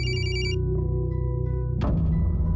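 A telephone ringing on an outgoing call, a steady electronic ringback tone with a high chiming burst at the start, then a sharp click as the line changes, heard alone with no talking.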